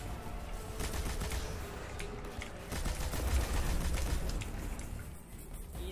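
Rapid automatic gunfire from a machine gun in the Destiny 2 video game, during a Nightfall mission, a dense continuous rattling burst with mechanical clatter, steady and loud throughout.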